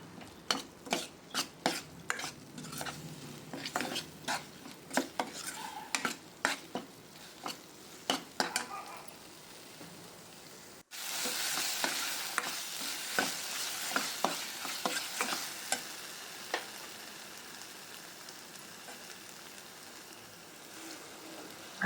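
Tomato and onion sautéing in oil as a spoon stirs them in a pan, steady frying hiss with repeated scraping strokes, quieter at first and then louder and denser sizzling in the second half, no talking.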